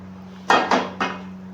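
A few sharp metallic clanks as a heavy metal wok is set down and shifted, with a steady low hum underneath.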